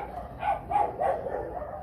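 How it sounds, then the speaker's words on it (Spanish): Dogs barking several times in quick succession at moderate distance, a short burst of sharp barks with no talk over them. "Como ese lío de perros que se produce."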